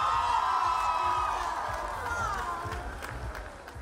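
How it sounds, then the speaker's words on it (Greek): An awards-show audience at the Super Music Awards 2019 gives broad applause with cheers and whoops, a dense, steady roar of the crowd that eases slightly toward the end. "Θέλω ακόμη ένα χειροκρότημα."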